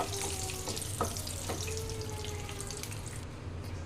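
Cloves and bay leaf crackle and sizzle in hot oil for paneer butter masala, a continuous close frying hiss with a few sharp pops and a light metallic clink, alongside a low background hum.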